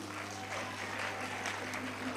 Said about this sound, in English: Let's be clapping, oh.